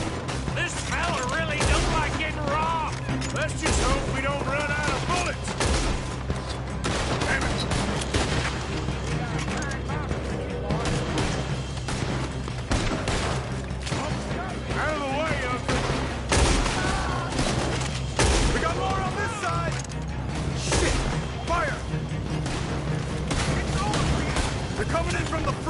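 Gunfire shootout in the video game Red Dead Redemption 2, a dense, continuous barrage of shots and booms throughout, with voices shouting over the battle.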